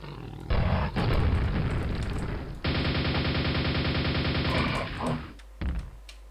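Gunfire from the game Quake on nightmare difficulty: a burst of shots, then a sustained rapid-fire barrage that ends in a few scattered blasts. It is loud and dense, with no talk.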